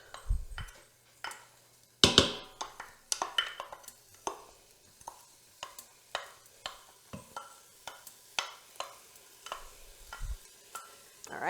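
Onions sizzle softly in a pot while a spoon stirs them, producing repeated scraping strokes in an even rhythm with a quiet frying hiss underneath, close and fairly faint.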